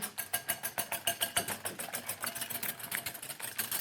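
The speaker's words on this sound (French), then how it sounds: "t'essaies de faire monter le blanc en neige. C'est pas évident avec un batteur à la main" Handheld electric mixer whisking egg whites into stiff peaks in a kitchen, a steady rapid whirring buzz with quick rhythmic pulses, close and fairly loud throughout with no talk.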